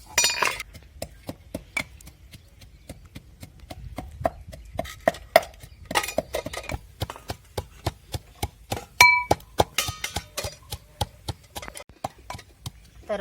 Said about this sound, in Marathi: आपण जो मसाला काढून घेतला तो आपल्याला खलबत्यामध्ये एकदम बारीक करून घ्यायचा आहे